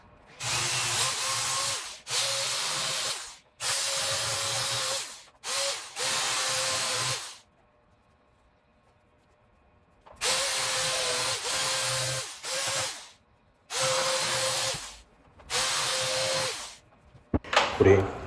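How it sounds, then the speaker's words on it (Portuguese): A power tool widens the speaker hole in a speaker box so the speaker will fit: loud, close grinding bursts of one to two seconds repeat in an irregular on-off rhythm, with a long quiet pause midway. "Raspar mais ela aqui ao redor para ver se entra o alto-falante."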